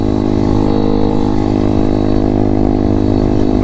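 M2R RF160 road legal pit bike being ridden in the UK, its small single-cylinder engine droning loud and steady at constant revs right up close, with no pauses.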